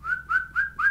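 A person whistles four short rising notes in steady succession, each a clear, bright tone repeated about every quarter second, close and alone without speech.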